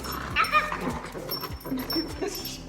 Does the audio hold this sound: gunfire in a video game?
no